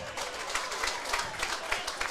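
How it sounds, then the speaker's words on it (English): Crowd noise at Redfern Oval during an SG Ball rugby league match between the Rabbitohs and Warriors, with scattered claps and cheers rising in a few brief bursts over a steady hum of spectators. "Decent crowd in here now."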